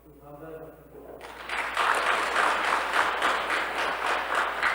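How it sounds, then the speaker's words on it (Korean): Audience applause of thanks at a Lenten Lectio Divina retreat lecture in a monastery hall, breaking out after a short spoken line and swelling into steady, fairly loud clapping that continues to the end. "감사의 박수"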